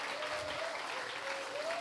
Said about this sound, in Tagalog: Yung palakpak na hindi nonchalant.